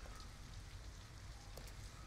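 Rain falling in the video game Detroit: Become Human, a soft, steady patter on surfaces with a low rumble underneath, faint and continuous with no voices.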